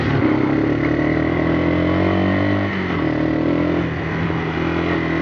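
A four-wheeler ATV's small engine idles steadily with a low, even drone that dips briefly partway through, running close by with no one speaking.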